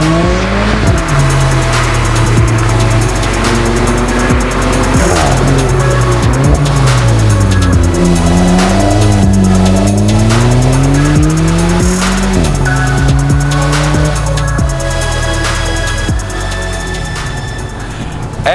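An Alfa Romeo 4C sports car engine pulling hard through the gears, its loud, buzzy note repeatedly climbing and dropping with each shift, with short squeals and rasps mixed in and no talking.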